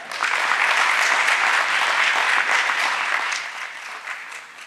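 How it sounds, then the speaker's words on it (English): Audience applause fills a listing ceremony for a wealth-management IPO, a dense, steady clapping from a large crowd that holds for several seconds and then thins slightly toward the end. "let's have a huge round of applause"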